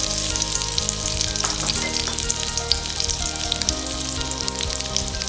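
Five finely chopped garlic cloves fry in half a tablespoon of butter in a pan, giving a steady, close sizzle that crackles continuously beneath background music.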